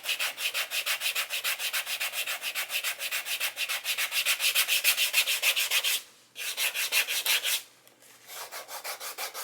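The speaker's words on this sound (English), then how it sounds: "So this is 100 side of the sanding stick." Steady back-and-forth rasping of a 100-grit sanding stick on wood, a rapid rhythmic scrubbing that pauses briefly twice before resuming.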